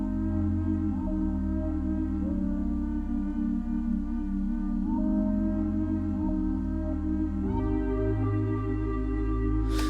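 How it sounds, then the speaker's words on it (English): Synth pad preset called Evil Frog from the Expand plugin, holding thick sustained chords over a deep low layer with a few smooth chord changes, steady and loud with no voices. "So this is called the Evil Frog in the pad section"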